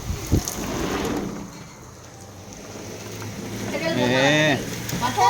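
Steady rain patters throughout, with people talking over it; a voice rises clearly near the end.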